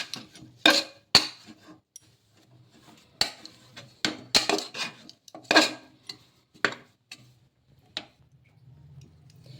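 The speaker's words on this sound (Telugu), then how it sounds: "ఇలా నూనె కూడా వేసేసుకొని ఒకసారి మళ్ళీ బాగా కలిపేసుకుందాము." Coconut poori mixture is mixed with oil in a bowl, giving sporadic sharp clinks and scrapes of a spoon against the vessel, spaced irregularly with quiet gaps, ending in a faint low rumble.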